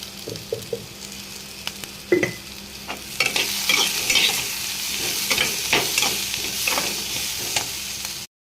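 Capsicum sautéing in a pan for chutney, a steady sizzle broken by scraping strokes of a spoon stirring the pieces, growing busier and louder partway through, then stopping abruptly; no talking.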